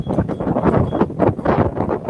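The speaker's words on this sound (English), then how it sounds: "It's very windy today." Wind buffets a microphone outdoors in low, uneven rumbling gusts that pulse throughout, loud and close, with no talking over it.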